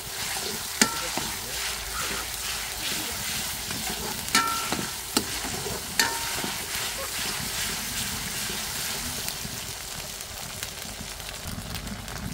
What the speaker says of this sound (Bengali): বেশ কিছুক্ষণ সময় নিয়ে কষাই নেব, কারণ এই কষানটাই কিন্তু তরকারি মজা আসে।